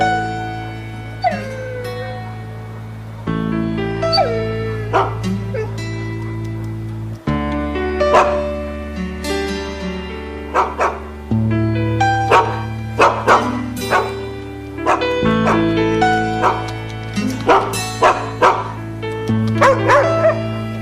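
Several dogs bark, yip and whimper at close range in an excited, irregular chorus of repeated sharp barks that runs for about twenty seconds over a low background hum.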